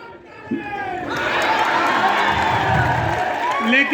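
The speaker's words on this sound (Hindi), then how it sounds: "अपने ब्रांड एम्बेसडर की बेइज्जती पे आप ताली बजा रहे हैं" A crowd at an outdoor comic poetry gathering on Assi Ghat in Kashi, marking World Environment Day, breaks into a swelling roar of clapping and cheering that rises after a second and stays loud and dense to the end.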